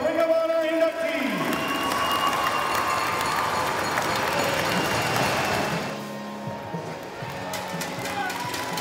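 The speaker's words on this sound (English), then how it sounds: "one more final round of applause for your alumni and Ring of Honor inductees" Crowd applause and cheering for alumni and Ring of Honor inductees at a Danbury Trashers hockey event, a broad wash of clapping and whoops that fades after several seconds, with talk over it.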